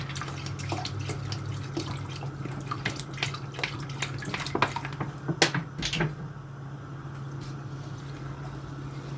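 Water poured from a tap into a cooking pot while making crab in red tomato sauce, a steady close splashing stream with scattered drips and clinks over a low hum.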